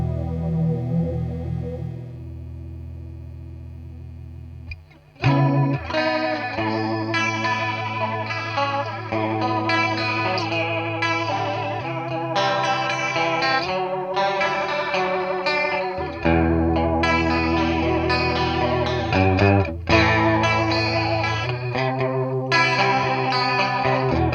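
Strummed electric guitar through a Joyo Ironman JF-327 Raptor flanger pedal at high speed, the jet-like whoosh cycling quickly over sustained chords, played continuously and fairly loud without speech.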